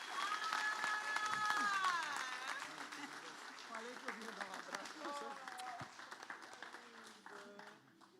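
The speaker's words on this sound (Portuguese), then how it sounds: "Você pode dar um aplauso bem forte?" Church congregation applauding during a service, strong clapping rising at first then thinning out, mixed with loud voices and singing-like calls over it.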